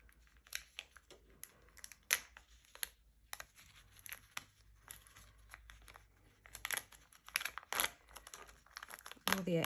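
Excess cut vinyl peeled back from its backing sheet, soft close crinkles and scattered crackling tears in irregular bursts, quiet and intermittent with a louder rip near the end.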